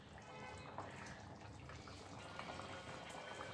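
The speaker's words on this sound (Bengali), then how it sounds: "এই 2 মিনিট আমরা কোফতাগুলো ঝোলের মধ্যে ফুটিয়ে নিয়েছি" Cabbage koftas simmer in gravy over low heat, giving a faint, steady bubbling and crackling that continues without pause and with no voices.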